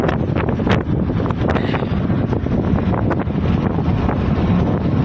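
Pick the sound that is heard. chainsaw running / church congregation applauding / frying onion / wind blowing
wind blowing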